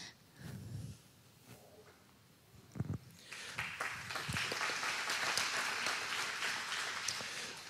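Applause from a church congregation builds after a few scattered thumps and noises, a steady patter of many hands clapping, moderately far and fairly soft.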